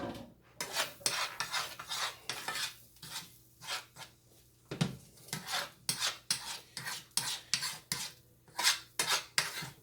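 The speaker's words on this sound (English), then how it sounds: "I'm gonna scramble these eggs here" Eggs scrambled in a bowl, a rapid rhythmic scraping and clinking of a utensil against the bowl in repeated bursts separated by short pauses, close and clear with no talk.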